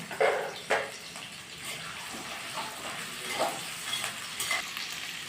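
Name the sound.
onions frying in hot oil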